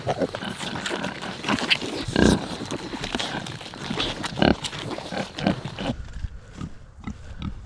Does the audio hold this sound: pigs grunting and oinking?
yes